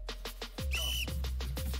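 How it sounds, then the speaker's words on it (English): Short shrill whistle blast signalling the start of a race, one clear tone cutting in briefly amid scattered thumps and clatter from people nearby. "On my whistle, you go, Tom."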